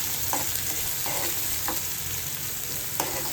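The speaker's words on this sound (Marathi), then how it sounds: "तर कांदा लाल होईपर्यंत परतून घ्या" Chopped onion sautéing in a pan while being browned, with a steady sizzle and several scraping stirs spaced across the clip, close and fairly loud, no voices.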